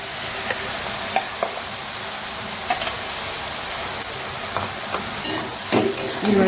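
Bottle gourd frying in a pan makes a loud, continuous close sizzle and hiss, broken by intermittent scraping clinks of a spatula stirring the vegetables, with no talking.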